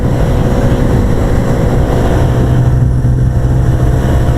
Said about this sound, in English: This is max throttle right now, but it's in 6th gear